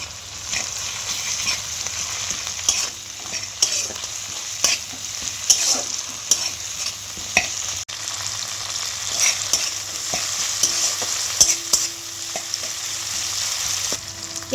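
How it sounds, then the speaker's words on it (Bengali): Onion, tomato and capsicum stir-frying with a spoonful of ginger-garlic paste for chilli paneer, a steady hiss of frying with repeated scraping and clattering stirs in the pan, close and continuous. "পেঁয়াজ, টমেটো, ক্যাপসিকাম আমার ভাজা হয়ে গেছে।"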